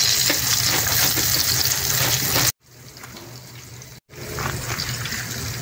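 Milkfish frying in hot oil in a pan, a dense, steady crackling sizzle close by, cut off twice by brief gaps; no voices.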